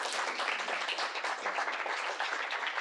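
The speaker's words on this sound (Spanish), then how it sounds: "pedirles un aplauso a nuestros invitados" Seminar audience on Chilean audiovisual production applauds the invited guests, a bright, dense burst of many hands clapping steadily at close range for a few seconds, with no talk.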